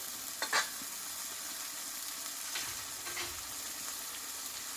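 Spice paste stir-fried in a pan for a Bengali chicken dish, giving a quiet steady sizzle with a few brief scraping stirs, fairly faint and with no voices.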